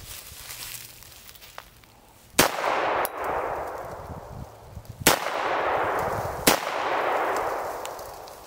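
Beretta M9 pistol with a failure-to-feed problem fires four sharp, loud shots at irregular spacing, each cracking out with a ringing metallic tail, over a quiet outdoor background.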